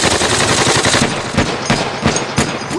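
Gunfire crackles in a World War II infantry drama: rapid, loud bursts of machine-gun and rifle fire in quick succession, with several sharp individual shots standing out in the last second and a half.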